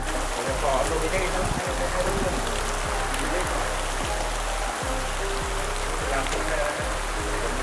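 Heavy rain pours steadily, a dense hiss of falling water over a rhythmic low mechanical thumping, with someone talking faintly beneath it.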